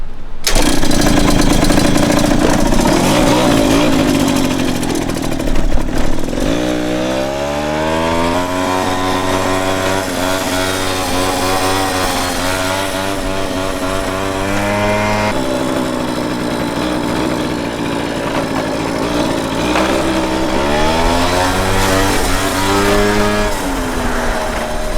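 A 1989 Honda Elite scooter, being built up as a 120cc stroker, kicks into life and revs hard, its engine note climbing and falling in repeated loud sweeps for the whole stretch, with a raspy, buzzing tone like a small two-stroke.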